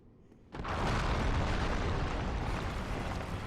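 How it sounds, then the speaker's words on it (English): A heavy explosion goes off in a Dark Souls boss fight, bursting in abruptly and then rolling on as a loud, sustained roar that fills the rest of the moment without any voices. "Now that explosion does a little bit behind him as well"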